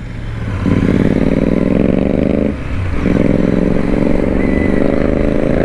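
Royal Enfield Interceptor 650 motorcycle engine pulling hard under acceleration, a loud, close, rising rumble that climbs, dips briefly as if between gears, then rises again over wind noise.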